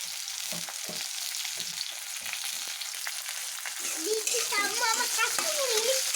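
Green chilies frying in hot oil for a Bengali katla fish curry, a continuous close sizzle with light stirring, while a voice chatters over it toward the end.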